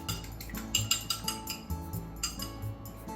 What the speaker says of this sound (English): Let's beat the egg.